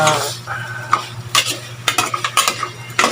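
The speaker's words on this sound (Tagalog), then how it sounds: "Pakuluin ko ito siya sa sarili niyang sabaw" Tinola chicken simmering in its own broth in a pot, with soft bubbling and sizzling and several sharp clinks and scrapes of a utensil against the pot, close by.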